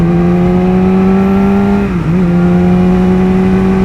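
Car cruising steadily at about 100 km/h, a loud, continuous engine drone with a brief dip in pitch partway through, heard from inside the cabin with no talking.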